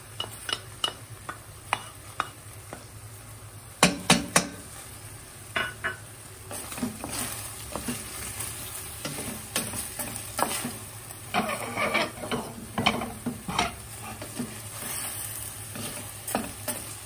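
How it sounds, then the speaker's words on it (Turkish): Chopped onion and garlic frying with meat in a pan for a Turkish kavurma, a steady close sizzle broken by repeated scraping stirs and clinks of a utensil against the pot, with no talking. "Şimdi soğan ve sarımsağımızı ilave ediyorum."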